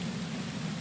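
Steady, dense rain pouring down outdoors in South Charlotte during Hurricane Florence, a continuous loud wash with no voices over it.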